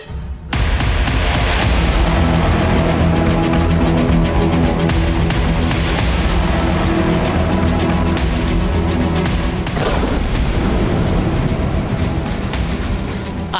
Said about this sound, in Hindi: आतंकियों के घरों को उड़ा दिया गया है